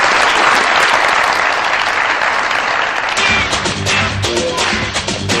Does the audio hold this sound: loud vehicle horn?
no